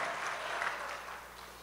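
A church congregation applauds during a service, a steady wash of clapping that holds for under two seconds and slowly thins out.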